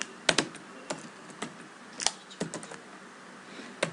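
Keystrokes on a computer keyboard while entering Cisco router commands for EIGRP MD5 authentication, an irregular run of sharp clicks with a few quick double taps, close and fairly quiet with no talking.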